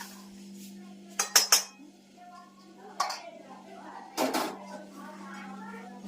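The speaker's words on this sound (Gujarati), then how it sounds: "સરસ મજાની લાપસી બની રહી છે ભાઈ" A metal utensil scrapes and clinks against a pot of lapsi, roasted flour with jaggery water, in a few quick knocks and then single strokes, close by over a steady low electrical hum with faint voices.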